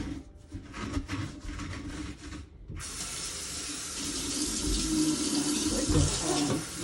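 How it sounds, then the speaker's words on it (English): Tap water runs steadily into a kitchen sink being cleaned, at first with some clattering, then a louder, fuller rush of rinsing water that continues to the end, with no talking. "Rinse this side out."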